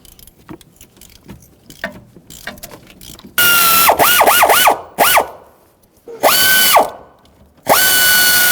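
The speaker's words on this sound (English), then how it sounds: "We'll loosen this bolt and remove it." A ratchet wrench clicks rapidly in several bursts with pauses between them, loud and close, its metallic whirring repeating as a pinch bolt is loosened on a 1999-2006 Chevrolet Silverado 1500 steering rack.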